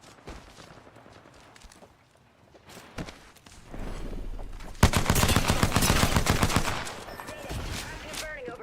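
Gunfire rings out in a ranked console shooter match. Faint shots come first, then a loud, dense burst of rapid fire fills the second half before it fades.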